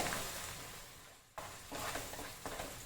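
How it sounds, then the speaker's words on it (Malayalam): Chicken frying in a pan while being stirred until browned, with a constant hissing sizzle broken by a brief dip and a few soft scraping stirs. "ഇത് നമ്മൾ കുറച്ച് നേരം തന്നെ ഇളക്കണം. ഈ വെള്ളമെല്ലാം വറ്റി നല്ല നല്ല ചെറുതായൊരു ബ്രൗൺ കളറാവുന്നത് വരെ"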